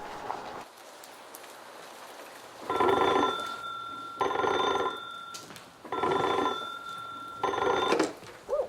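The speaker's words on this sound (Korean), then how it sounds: "대전 형무소로 긴급 전화가 걸려온다." An old telephone at Daejeon prison rings in four distinct, evenly spaced bursts, each a buzzing bell lasting over a second with short pauses between, clear and fairly close against a quiet background.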